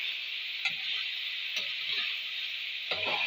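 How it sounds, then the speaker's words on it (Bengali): Spring onion and potato fry in a pan under a constant bright sizzle, broken by three distinct scraping clanks of a spoon stirring, close up with no talk. "ভালো করে একবার নেড়ে দেবো"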